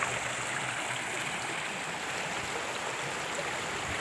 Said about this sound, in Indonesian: air gemericik, bening sekali